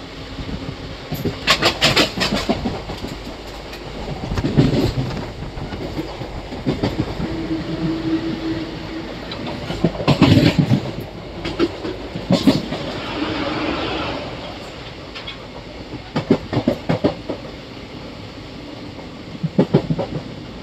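Train passing through Dumriput railway station without stopping, a steady rolling rumble with repeated clickety-clack bursts from the wheels over rail joints, heard from onboard and sustained throughout.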